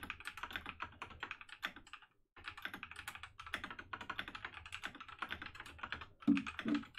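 Rapid typing on a computer keyboard, quiet and close, in quick irregular bursts of clicks with a short pause in the middle and a couple of louder knocks near the end.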